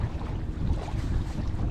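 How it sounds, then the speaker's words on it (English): Low rumbling engine of a passing boat on open water during a kayak bass fishing tournament in Georgia, mixed with heavy wind buffeting and splashing, close and fairly loud throughout. "here comes this boat"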